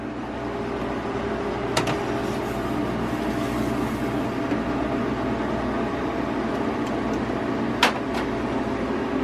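A freeze dryer loaded with trays of sliced strawberries and mashed banana runs with a steady, even mechanical hum, broken by a couple of sharp clicks.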